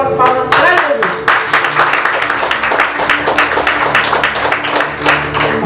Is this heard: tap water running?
no